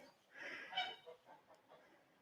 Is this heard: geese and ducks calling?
yes